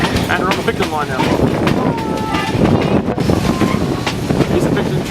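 A steam train runs on the Picton line at Thirlmere, a continuous close rolling rumble with wheel clatter and brief high squeals throughout, with people's voices faintly mixed in.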